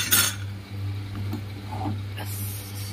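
A cooking pot of fish curry is lifted off a stove and set down on a hard surface in a home kitchen, giving a brief metallic clink at the start over a steady low hum, with a faint scrape near the end.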